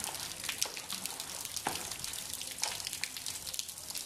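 Floodwater runs and trickles along an unpaved, undrained street in Barra do Ceará after heavy rain, a steady close watery wash with small splashes and drips throughout.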